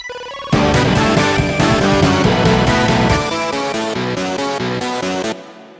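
A Reason synth preset plays with its arpeggiator switched off, sounding a brief single note before loud sustained chords that shift in a steady pattern and then cut off, with no voices.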